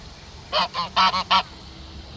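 A goose at a park pond honks five times in a quick, loud series, close by and heard alone with no talking.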